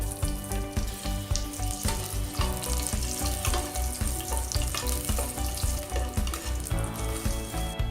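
Green chilies and whole spices, including a bay leaf, fry in oil for tomato rice, producing a loud, steady close sizzle with rhythmic thumps and crackles, with no talk over it.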